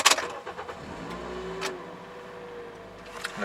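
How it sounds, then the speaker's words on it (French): A car starts for a night drive: a close clunk and whirr of the starter, then the engine settles into a low idle hum with a few clicks and faint rustles. "il est temps de faire une petite conduite de voiture."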